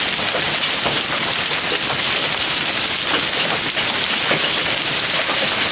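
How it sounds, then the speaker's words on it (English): Hail pelting down hard and steadily during a storm in Charleston, South Carolina, a loud, dense, unbroken roar of hailstones hitting surfaces nearby, with no voices. "It's the worst hail I've ever seen here."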